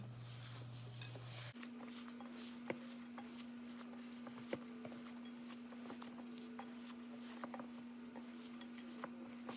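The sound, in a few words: mixing ingredients for keto deep dish pizza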